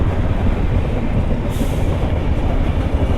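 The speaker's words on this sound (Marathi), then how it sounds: "ट्रेन पण आली." A train pulls into a station platform, its steady loud rumble and rolling noise filling the scene continuously without any voices.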